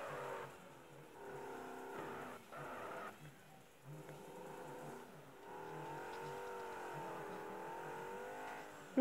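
Car engine in a racing video game revving and drifting at low speed, a steady mid-level drone with wavering pitch that dips briefly around the middle and rises again, running alone without talk.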